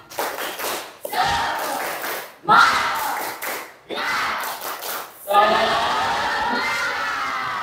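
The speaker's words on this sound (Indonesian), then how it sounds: "mari kita tepuk semangat" A school class performs the 'tepuk semangat' clapping chant, children shouting words together in bursts punctuated by sharp unison claps, with short gaps between phrases and a louder, sustained group shout at the end.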